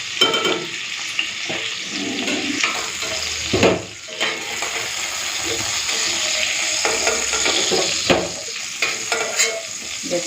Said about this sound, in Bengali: সবকটা পটল লাল লাল করে ভেজে নিয়েছি, এবারে তুলে নেবো।